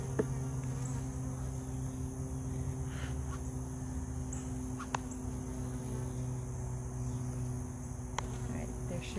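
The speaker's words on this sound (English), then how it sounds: "But there's so many darn bees." A close, steady buzzing of many honey bees at a hive with a queen excluder hums continuously, with occasional faint clicks and taps rising above the drone.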